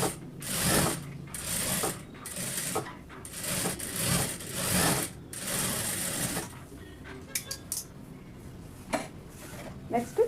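A tailoring sewing machine stitches a chudidar seam in rapid rattling bursts of mechanical chatter, then the sound drops to softer scattered clicks and knocks of fabric handling.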